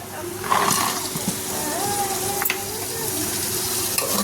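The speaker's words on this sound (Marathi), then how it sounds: "वटाणे आणि बटाटे आपण आता त्यामध्ये टाकायचे हे" Peas and potatoes frying in a pan for a quick pea pulao, giving a steady close sizzle with a few stirring scrapes, under faint background noise and some light voice-like sounds.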